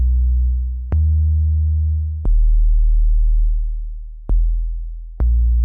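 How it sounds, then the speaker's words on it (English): An 808-style sub kick drum plays a melody, four deep booming hits at different pitches, each sustaining and slowly decaying before the next, loud and alone. "we have a sub kick, which is like an 808 sound, but also playing a melody"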